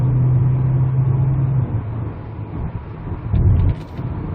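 A Kia K7 running on LPG pulls steadily under acceleration while driving, a loud, continuous low engine drone with a brief rise near the end, heard from inside the cabin.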